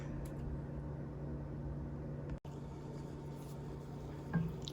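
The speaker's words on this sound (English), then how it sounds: "I am gonna immersion blend it to make it smooth." An immersion blender whirs in a pot of creamy morel mushroom soup with a steady, close, even drone that barely changes, dips in one brief break, and returns with no talking.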